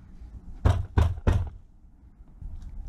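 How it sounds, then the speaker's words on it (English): Three sharp metallic knocks from a hammer on a metal light bracket of a BMW R1250R motorcycle, in quick succession, evenly spaced and close, followed by quiet room noise. "if I knock the hammer in a little bit"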